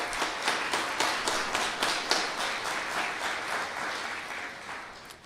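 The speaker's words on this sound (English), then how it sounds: "So please give them a warm round of applause." An audience at a town hall in Edmonton gives warm applause for the volunteers, with distinct claps standing out at first and then blending into an even, moderately loud round of clapping that carries on without voices.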